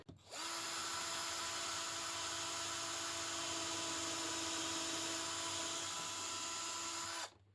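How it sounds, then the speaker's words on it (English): A high-pitched drill with a countersink bit whines steadily for about seven seconds drilling pilot holes, spinning up sharply and cutting off abruptly at the end, close and loud with no talking. "I'm going to use a drill bit with a countersinker on it"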